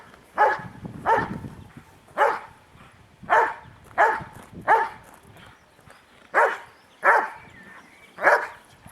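A cartoon dog barks about ten times in a steady, evenly spaced series of sharp, loud barks that stand alone with no talk over them.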